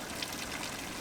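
Warm mineral spring water, around 36 to 37 degrees, running without pause from a public tap in Sofia, heard as a steady, soft splashing trickle that is fairly faint and continuous.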